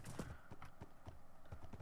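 Horse hooves clip-clop in the Minecraft video game, a quiet, uneven patter of several hoof steps in quick succession with no voices.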